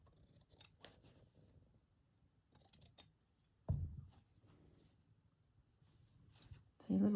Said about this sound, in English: I'm going to just trim.